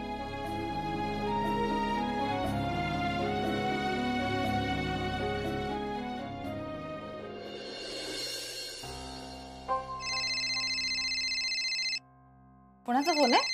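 A phone rings with a bright electronic ringtone melody that repeats in bursts, cutting in over a background music bed, with one sharp pause before the tone resumes.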